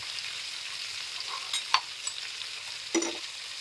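Whole spices and coriander seeds dry roast in a pan for prawn bhuna curry, a soft continuous hiss broken by a couple of sharp spatula scrapes and taps, close and unaccompanied by speech.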